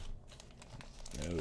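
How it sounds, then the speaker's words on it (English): Plastic protective wrap crinkles and tears as it is pulled off a Baker Creek Whole Seed Catalog, brief close rustling while a person talks over it. "Seeing me be bad at opening shrink wrap or whatever. I guess this isn't shrink wrap, plastic wrap, protective coating."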